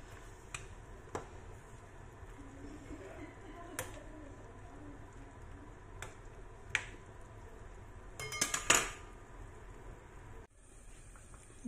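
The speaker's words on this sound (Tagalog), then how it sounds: "haluin lang natin" Soup being stirred in a pot with a utensil while cooking vegetable beef soup, giving faint scattered clinks and taps against the pot over a low background hum, with a brief louder cluster of clatter near the end.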